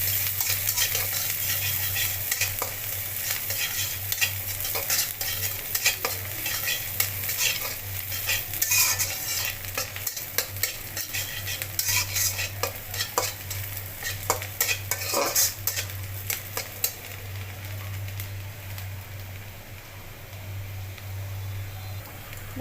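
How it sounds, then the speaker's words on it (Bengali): Chopped onions fry in hot oil for a cauliflower and tengra fish curry, a steady close sizzle broken by frequent scrapes and clinks of a spatula stirring the pan throughout, with no talk. "পেঁয়াজটাকে আমি লাল করে ভেজে নেব।"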